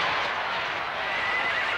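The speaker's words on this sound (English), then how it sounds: "Nice horsey." A cartoon horse neighs and whinnies loudly throughout, with a steady bright whinny and faint hoof clip-clop underneath, no talking over it.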